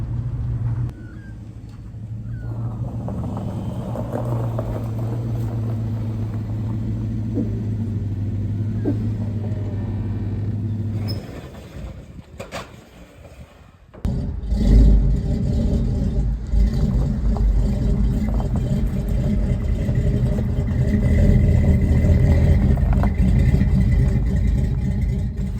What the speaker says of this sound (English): there's a little bit noisy in the car